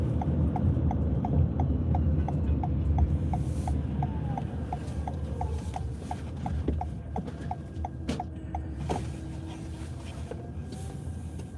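Steady clip-clop of horse hooves on pavement in a horse-loving town lined with white fences, a regular even rhythm of hoofbeats over a constant low vehicle rumble, moderately close, no talking.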